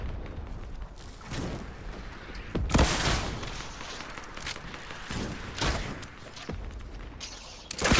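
Rocket fire in Fortnite, with several loud bursts and booming blasts at irregular intervals over a constant battle din, nobody speaking.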